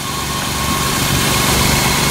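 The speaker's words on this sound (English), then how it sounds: "It's a very nice running engine." Close-up, the old 3.8-liter Essex V6 in a 2000 Ford Mustang convertible runs at a smooth, constant idle, a continuous droning hum with light vibration and no other sounds.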